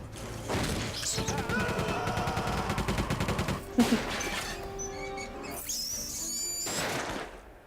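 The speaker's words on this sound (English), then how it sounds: "whose solution to every problem is to shoot guns at it" Rapid bursts of gunfire and crashing impacts from the 1999 film The Mummy, sounding loud and dense over a dramatic trailer music score.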